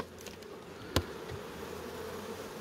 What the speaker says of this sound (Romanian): toată albina stătea, era la urdini și era pe peretele stufului